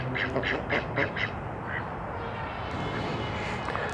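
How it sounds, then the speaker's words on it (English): Ducks at a backyard coop give a quick run of nearby quacks in the first second and a half, then fade to a faint outdoor background. "And the ducks are out playing today,"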